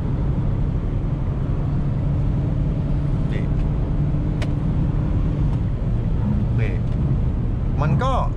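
Inside a Mitsubishi Xpander Cross with a 1.5 engine and four-speed gearbox, raised 20 mm, a steady engine and road drone holds at speed while someone talks over it.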